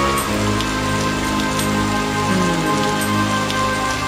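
Steady rain falls in the Otogirisou horror video game, a dense, even patter that continues unbroken from start to finish. No voices are heard.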